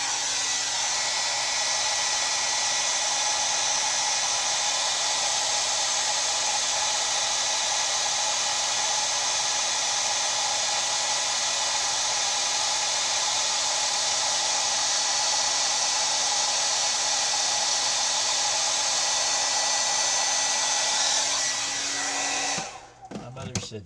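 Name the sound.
heat gun blowing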